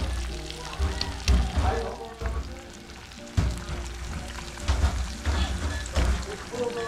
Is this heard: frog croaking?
no